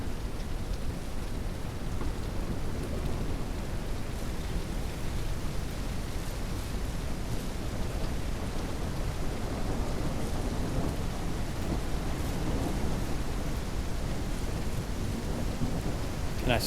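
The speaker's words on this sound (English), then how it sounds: "And another storm coming in." A video game thunderstorm in Ranch Simulator brings dense, steady rain hiss with low rumbling thunder rolling throughout, loud and unbroken for the whole stretch, with no voices.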